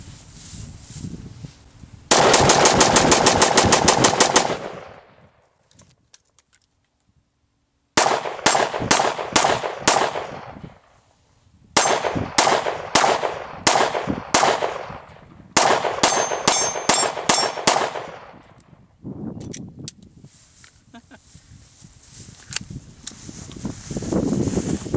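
A Glock handgun, a 40-caliber Glock 22, fires in loud, sharp strings of rapid shots, the volleys separated by short pauses, each crack ringing close and cutting off cleanly.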